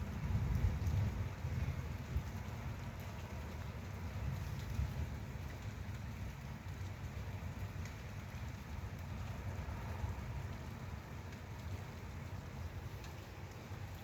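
An evening thunderstorm after lightning, with steady rain hissing throughout over a continuous low, distant rumble of thunder, and no voices.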